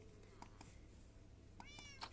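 Pet cats in Minecraft give a couple of short, faint meows, one near the start and a clearer pair near the end, over a soft, steady background.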